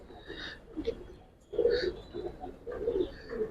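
Giribaz and silver Bagha pigeons coo in low, soft murmuring bursts, with a brief pause before a louder, fuller stretch of cooing near at hand.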